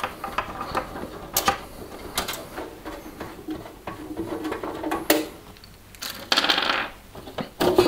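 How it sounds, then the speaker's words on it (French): Thumbscrews are turned by hand to open an Antec ISK 600 PC case, giving small metallic clicks, scrapes and rattles at close range, quiet and intermittent. "Pour ouvrir le boîtier, 3 vis à main."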